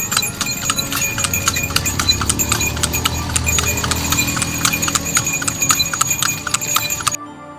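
A horse-drawn delman cart clip-clops with steady, even hoofbeats and a light jingle of harness, loud and close, before stopping abruptly near the end.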